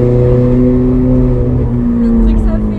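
A Ferrari's engine idles and revs while warming up, a loud, close, steady mechanical drone with strong low harmonics and a slight rise near the end.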